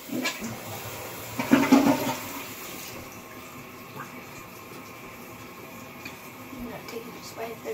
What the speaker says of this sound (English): And then I'm just taking a flush.